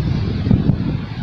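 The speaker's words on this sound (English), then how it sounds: "Very windy" Strong wind blows hard and steadily across an outdoor campsite, buffeting close up with a rough, rumbling roar.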